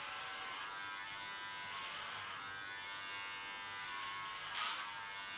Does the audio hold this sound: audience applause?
no